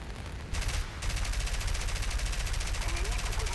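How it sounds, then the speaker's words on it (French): Aircraft guns fire in War Thunder, a dense rapid rattling burst that runs continuously and loud after a brief pause near the start, with a voice speaking underneath. "Je tire pour essayer de me freiner."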